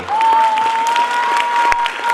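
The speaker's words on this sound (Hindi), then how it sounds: "बच्चे आपकी तालियों का इंतजार कर रहे हैं बैठे हुए।" An audience at a dance academy's annual function claps steadily, with a sustained whistle-like tone riding over the applause.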